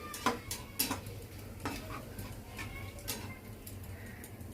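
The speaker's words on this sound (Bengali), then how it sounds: "একটু নাড়াচাড়া করে দেখুন মশলার ভালো গন্ধ ছাড়ছে" Whole cumin, dried red chilli and bay leaves stirred in a pan for a Bengali kochu loti dish: faint, quiet scraping with light metallic clinks of a spoon against the pan and a soft sizzle underneath.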